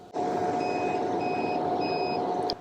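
Thunder Laser Bolt engraver beeping at the end of an engraving job on a ceramic mug, a short series of steady repeated electronic tones over a constant machine hum, close, no talk.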